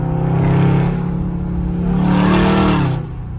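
A Dodge Charger Scat Pack in track mode revs its engine in two loud surges, a deep, rising roar that swells, eases, then climbs again before dropping off, heard close from inside the car.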